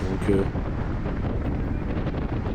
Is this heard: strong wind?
yes